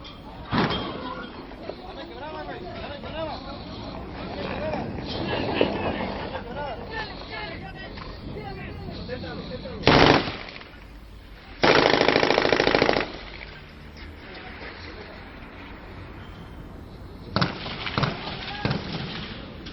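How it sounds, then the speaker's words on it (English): Bursts of cartel gunfire crack out in the distance in scattered volleys, with several louder, sustained stretches of shooting over a noisy background; no one speaks. "That was the cartel firing back."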